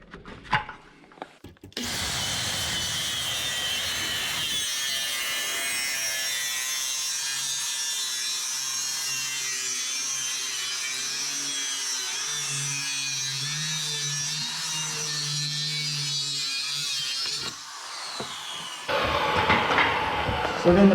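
A Makita power saw cuts through wooden boards for a wheelchair ramp, a steady, close, whining cut lasting about fifteen seconds, with clattering handling noise just before it starts and after it stops.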